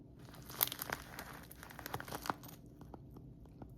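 A package is cut open with crisp tearing and crinkling of paper and plastic, close and quiet, in short irregular bursts that thin out toward the end.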